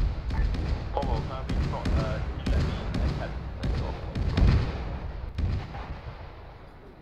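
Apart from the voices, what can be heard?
howitzer artillery fire in a WW2 video game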